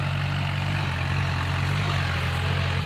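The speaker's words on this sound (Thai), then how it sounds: "เสียงรถไถก็ดังแห้งแห้งจ้า" A farm tractor starting to plough fields runs its engine with a loud, steady, low rumble and a heavy droning hum close by, with no voices.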